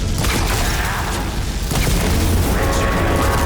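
A loud boom and rumbling blast as a machine is destroyed in the video game Horizon Forbidden West: Burning Shore, with mechanical clanking and a dense game soundscape continuing throughout.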